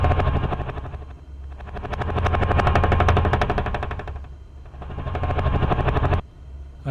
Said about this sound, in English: Let's select blade slapping for a helicopter.